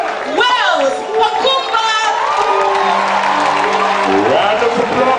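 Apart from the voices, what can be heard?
audience applause after a lecture speaker's introduction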